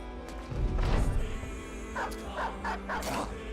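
War dogs in the Battle Brothers video game bark and yip in a short, scrappy burst, several quick sharp barks rising over low battle rumble, loud and close.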